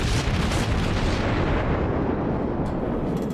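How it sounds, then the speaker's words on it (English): Heavy naval gunfire pounds a warship in World of Warships, dense overlapping booms and shell blasts rolling continuously at loud, steady intensity with no pause. "A lot of incoming fire at the moment."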